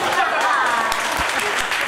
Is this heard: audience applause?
yes